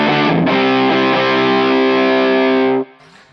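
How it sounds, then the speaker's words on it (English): An electric guitar runs through a Jam Pedals Eureka fuzz pedal, one thick sustained fuzzy chord ringing loud and close for almost three seconds before it is cut off, leaving only a brief quiet tail. "I'm using the Jam Pedals Eureka for this one, and it's a lovely little pedal. Kind of covers the ground of a fuzz face and a big muff"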